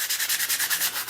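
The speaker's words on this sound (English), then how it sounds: "I've got a little sandpaper here" Sandpaper scuffs back and forth to rough up a surface before painting buffalo plaid, about ten quick, even, close strokes in a steady rhythm with no talk.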